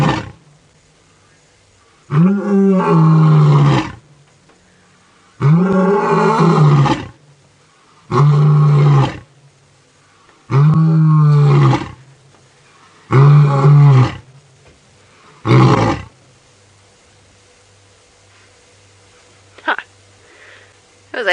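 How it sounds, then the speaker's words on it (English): A wild lion roars during a sunset safari drive, calling in a loud, close series of about six deep, groaning roars a few seconds apart. The roars shorten and fade toward the end, and a few quiet grunts follow. "As I turn up my speaker, I can hear him roaring as well as it coming through Jamie's microphone."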